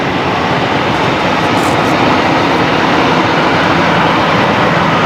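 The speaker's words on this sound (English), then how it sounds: "Here we go, the Qantas 125 now rolling." Qantas flight 125, an airliner bound for Auckland, rolls for takeoff, its engines giving a loud, steady, broad roar that holds without a break through the stretch.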